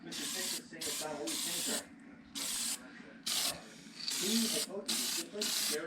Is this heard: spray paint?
yes